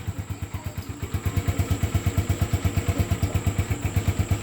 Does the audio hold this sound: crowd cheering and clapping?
no